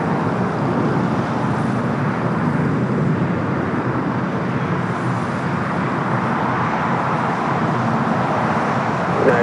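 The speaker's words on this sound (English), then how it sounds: "Dreamliner taking off" A United Boeing 787-9 Dreamliner takes off from runway 25 right at LAX, a broad, steady jet roar heard from a distance that holds level throughout without speech.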